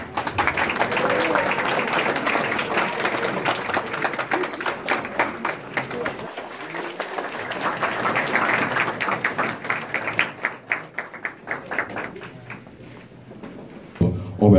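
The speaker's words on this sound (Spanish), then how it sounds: "Fuertes aplausos para estos músicos." A concert audience claps loudly and steadily for the musicians of a symphonic band at an acoustic music festival. The applause thins into scattered claps and fades near the end.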